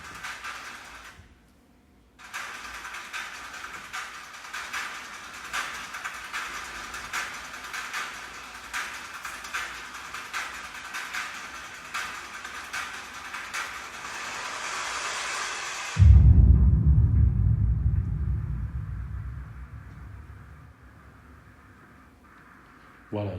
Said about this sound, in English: the rain is pouring on hi-hats, thunder is playing the kick drum, this drum kit sounds like a storm